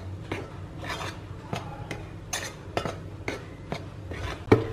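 A utensil stirs sifted wheat flour with salt and yeast in a bowl, giving a series of scraping, clinking strokes in an irregular rhythm, close and clear.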